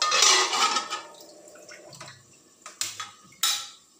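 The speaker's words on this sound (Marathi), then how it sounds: "पुन्हा झाकण त्याच्यावरती ठेवते आहे" Metal lid set back onto a cooking pot of red pumpkin bhaji, giving a few sharp clinks and knocks near the end after softer kitchen rattles, with no voices.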